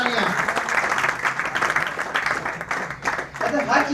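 An audience gives a loud, sustained burst of applause for a speaker, dense clapping filling the room and dipping briefly before swelling again.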